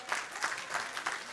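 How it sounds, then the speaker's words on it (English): A church audience gives a round of applause, a short burst of dense clapping rising and falling in waves, with no voices over it. "give him a big round of applause"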